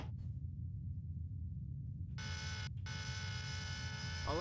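An alarm aboard a submarine in the naval simulation game Dangerous Waters starts partway through as a steady, harsh buzzing tone. It breaks off once briefly and then resumes over a low hum.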